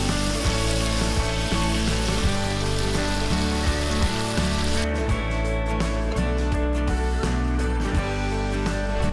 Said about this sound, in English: It's already starting to bubble up